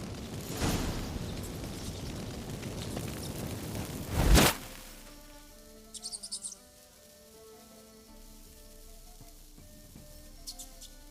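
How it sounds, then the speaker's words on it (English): Magic fireworks in The Witcher 3 explode with a loud burst early on and a sharper blast around four seconds, followed by quieter squeaks and faint chirping tones in a calm ambience. "Get ready for some magic fireworks."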